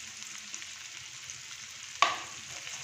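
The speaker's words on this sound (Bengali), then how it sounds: "এটা এবার একটু ভাজা ভাজা হবে ভালো করে" Chopped onions and green chillies frying in a pan, a quiet steady sizzle with faint stirring and one sharp clink of a spoon against the pan.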